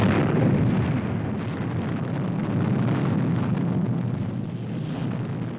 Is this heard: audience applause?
no